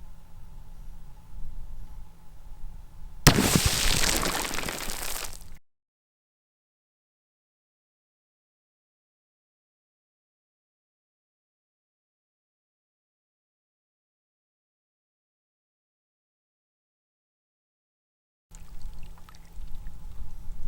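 A 156-grain Norma soft point round from a 6.5 Grendel rifle strikes water jugs, giving a loud, splashing burst of a few seconds, followed by a long dead gap and then quiet outdoor ambience.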